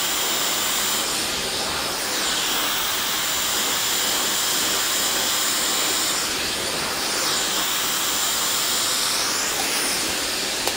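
A hair dryer blows on a person's hair, giving off a loud, steady whoosh of rushing air that runs through the whole stretch with slight swells, and no one speaks over it.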